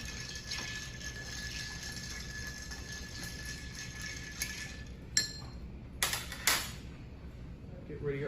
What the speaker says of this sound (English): So just stir that up.